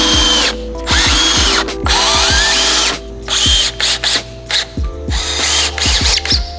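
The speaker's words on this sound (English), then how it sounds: "Can tack down some screws on it." A power drill drives screws into wood, whirring in short bursts that stop and restart with clicks and ratcheting pulses between runs, loud and close with no speech.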